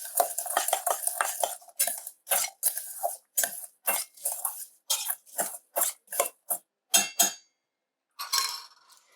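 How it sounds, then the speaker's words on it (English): Spoon stirring granulated sugar into diced apples in a bowl, a rapid run of scraping clinks followed by separate, evenly spaced strokes against the bowl, close and alone, with brief pauses near the end. "And we're going to put some granulated sugar on the apple, the diced apples. We're going to mix that up."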